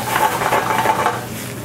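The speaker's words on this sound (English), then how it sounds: "I'm going to just saute this up" Sliced carrots, shallot and garlic sauteing in a pan with mushrooms, a steady close hiss of frying with faint stirring and pan contact, loud and continuous without talk.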